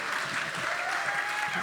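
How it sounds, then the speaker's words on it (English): Live studio audience at a political talk show applauding steadily in a broad continuous wash of clapping, with no gaps over the short stretch. "you can clap for that."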